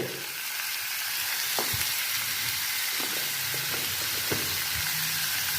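Onions sizzle steadily in hot oil in a pan, a constant close frying hiss broken by a few sharp clicks of a utensil stirring them.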